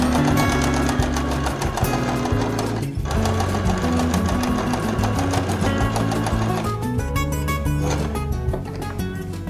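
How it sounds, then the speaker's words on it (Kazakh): A domestic sewing machine set to a zigzag stitch program runs steadily and loudly for the whole stretch while embroidering the edges of a kerchief, its rapid mechanical whirring constant with one brief pause near the three-second mark. "Машинкада зигзаг қойып қойдық программасын."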